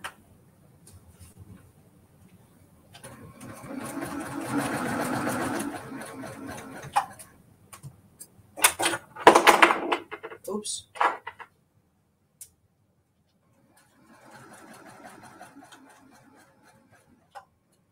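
Sewing machine stitching the final seam of a cozy star quilt block, running in short bursts with a longer steady run in the middle and a faint run near the end, while someone talks over parts of it.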